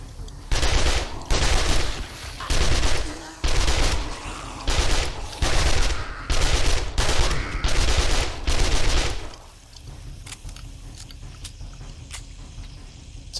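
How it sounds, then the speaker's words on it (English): Rapid bursts of SMG fire in the zombie survival game 7 Days to Die at night, loud repeated volleys with short gaps between them, then the shooting stops and leaves a quieter background. "It's all about the SMG, baby."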